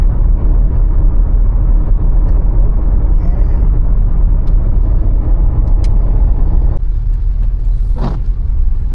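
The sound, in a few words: car being driven fast on a road trip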